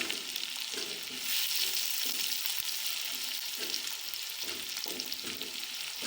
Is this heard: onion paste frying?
yes